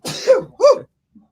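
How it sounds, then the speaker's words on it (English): A single close sneeze in two quick bursts, a sharp intake-like burst then a louder release, followed by silence. "Oh man, I gotta sneeze."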